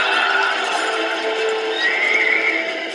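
Horses neigh and whinny in a shrill, drawn-out call over a soft bed of hoof clatter, set as horse racing in an ancient hippodrome.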